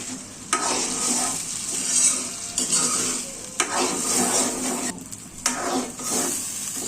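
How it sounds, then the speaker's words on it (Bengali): Boiled lentils with salt and turmeric powder stir-fried dry in a pan for dal bhorta, with steady close sizzling and repeated scraping strokes of a spatula against the pan, no voices. "আর দিয়ে দিব হলুদ গুঁড়ো। এবার এটাকে ভালো করে ভাজতে হবে।"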